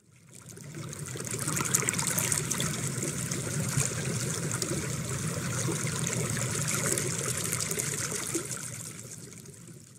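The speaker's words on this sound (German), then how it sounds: "Schnell fließt der Fluss an ihnen vorbei." A river rushes fast past its bank, a steady broad wash of flowing water that stays even and fairly loud throughout, with no voices.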